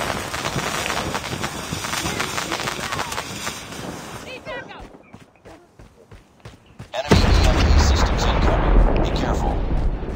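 In a military shooter video game, a grenade explosion booms amid dense gunfire and artillery-like blasts, loud and close, with a brief quieter gap before another heavy rumbling burst.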